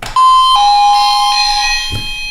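Two-tone ding-dong chime from a 433 MHz wireless doorbell, triggered by a button press, ringing loud and close with a sustained decay and a soft knock near the end.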